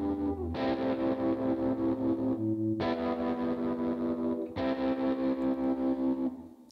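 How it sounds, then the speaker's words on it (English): An electric guitar plays sustained, distorted chords through a long reverb, each chord ringing out thick and full before the next one hits, fading to a washed-out tail at the end, with no talking. "try the long reverb on that guitar"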